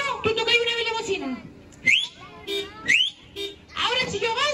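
A person whistles in short, sharp, rising bursts, several shrill calls separated by pauses, close by, with voices talking in between.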